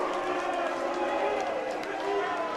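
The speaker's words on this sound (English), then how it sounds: "You're hearing a large San Jose State contingency cheering for their team." A large crowd of San Jose State fans cheers at an NCAA men's water polo quarterfinal against Fordham, a steady roar of voices filling the venue.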